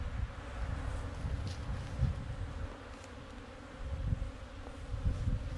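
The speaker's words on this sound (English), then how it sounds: "shake those bees in" Honey bees buzzing as a nuc colony is shaken into a hive, a steady dense drone with slight swells in loudness, close and continuous, with no voices.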